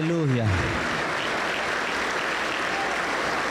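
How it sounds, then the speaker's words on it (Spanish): A Pentecostal church congregation in Huancayo breaks into loud, continuous clapping, a dense even roar of hands that starts right as a voice trails off at the beginning. "Damos un fuerte aplauso para el Señor"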